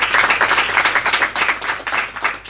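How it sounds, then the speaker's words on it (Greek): Audience applause for a person named Pantelis at an event at a rural record shop, steady close clapping from a crowd lasting the whole short span without a break. "το χειροκρότημά σας για τον Παντελή"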